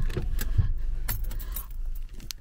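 Keys jangle and clink in a few quick shakes, close by, with faint low rumble in the background.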